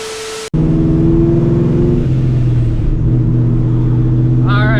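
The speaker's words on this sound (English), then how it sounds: "we're back in the Mustang" Procharged 2004 Mustang GT with a 4.6 2V V8 starting up abruptly after a short quiet moment, then a loud, close, rumbling idle with a slight rev change midway and brief tonal whine near the end.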